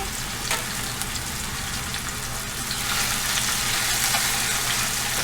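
Chopped garlic and onion frying in a pan, a dense, loud continuous sizzle that swells slightly toward the end, close up and with no voices.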